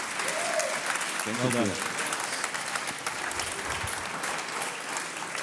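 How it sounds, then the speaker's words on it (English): Audience applause at a leadership talk in Munich, a broad steady clapping that fills the whole stretch, with a short spoken remark from a man near the start over the clapping. "please give a warm applause to Max Roedel"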